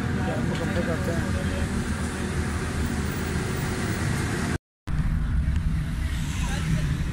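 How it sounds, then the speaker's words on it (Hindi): A Daihatsu Cuore automatic, just repaired with a new condenser after stalling and backfiring, runs with a steady, close engine hum. The hum drops out for an instant partway through, then resumes. "इसकी फिटिंग करके गाड़ी स्टार्ट करते हैं"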